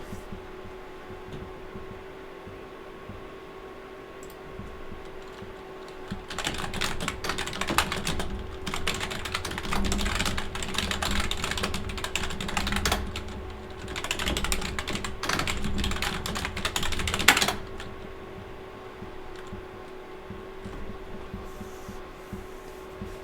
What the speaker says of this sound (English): Oh, you can hear me typing.